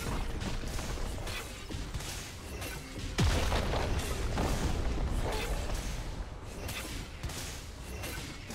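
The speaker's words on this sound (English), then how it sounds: "Team's turret has been destroyed." A League of Legends turret crumbling as it is destroyed during a mid-lane Aurelion Sol versus Ahri match, a loud crash and rumbling collapse partway through, layered over busy game effects and music.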